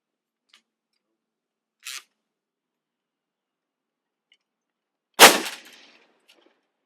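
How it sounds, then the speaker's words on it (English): Fuse cutout door blowing on an energized power line at a utility demonstration: one sharp, loud bang with a short ringing decay, preceded by a smaller snap, otherwise quiet. "The loud explosion you heard was what is called a fuse cutout door."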